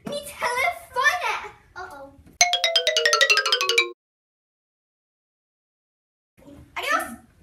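A mobile phone ringtone plays a short electronic melody of descending repeated tones, loud and close, between bursts of a child's excited speech.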